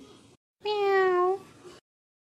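Cartoon cat letting out one drawn-out, clear meow, loud and close, preceded by a brief faint sound, with silence after.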